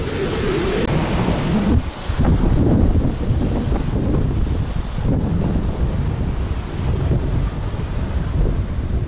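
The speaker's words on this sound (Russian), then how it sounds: "еще раз вам, весеннее, штормящее море" Rough, stormy spring sea on the west coast of Crimea surges and crashes under heavy wind buffeting the microphone, loud and turbulent throughout, with no voices.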